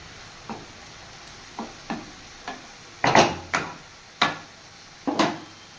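A spatula knocks and scrapes against a pan of frying taro stolons in scattered taps over a faint background hiss of frying.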